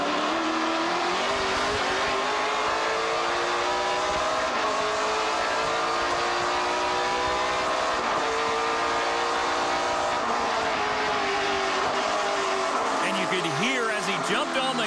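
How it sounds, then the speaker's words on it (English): NASCAR Pinty's Series race cars on Goodyear tires at the Can-Am 50-lap race, a steady loud engine drone with tonal whine and tire scrubbing sustained throughout, under faint broadcast commentary. "The tires screaming for traction, almost at the 50 lap distance now."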